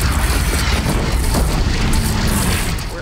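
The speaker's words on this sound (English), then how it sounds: "Take up a cannon on the platform." Cannon fire in the video game Horizon Zero Dawn, a dense, loud, low rumbling boom that sustains for several seconds with no clear separate blasts.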